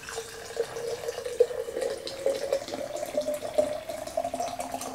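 Room-temperature water is poured over loose herbs into a large glass jar, producing a steady, close trickle whose tone slowly rises as the jar fills.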